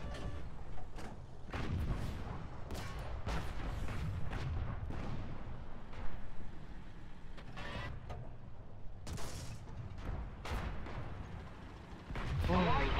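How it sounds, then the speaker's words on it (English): Artillery barrage in War Thunder ground battles with Rank 2 German tanks, repeated sharp blasts scattered over steady engine and battle rumble, fairly faint and distant-sounding. "we got lucky that someone threw out a artillery barrage"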